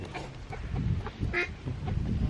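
Ducks quacking at a reservoir outdoors, several short nasal calls scattered over steady low wind and background rumble, fairly near and moderately loud, with no talking.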